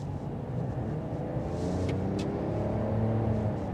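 A 2026 Ram 1500 Tungsten pickup accelerates at full throttle in auto mode, a steady, loud low engine rumble and whir building evenly throughout.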